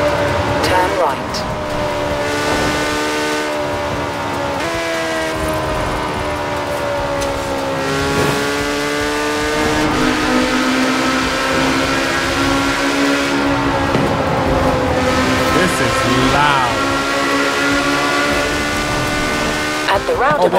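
A race car engine in Forza Horizon 4, driven with a steering wheel, revs loud and continuous, its pitch rising and falling through shifts for the whole stretch.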